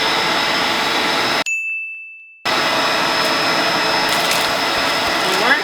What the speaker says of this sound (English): Now we got a super long vacuum.